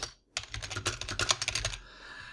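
Quick keystrokes clatter on a computer keyboard as a table name is typed into a Microsoft Access database, a dense close burst of about a dozen taps lasting over a second, with no talking.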